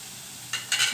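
Onion frying in oil in a pan, a low steady sizzle broken near the end by two quick stirring scrapes of a spoon against the pan.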